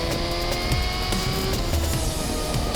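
A Suzuki GSX-R1000 sport motorcycle accelerates hard, giving a dense, loud and sustained engine roar that stays strong and even throughout.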